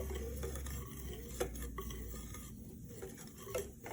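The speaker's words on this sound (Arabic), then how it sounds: "ودابا غادي نبدا نحرك هكا حتى كتعقد فوق العافيه مهيله" A utensil stirring a banana and walnut dessert mixture in a pot over low heat, with soft scraping and occasional clinks against the pot, close and steady under a faint low hum.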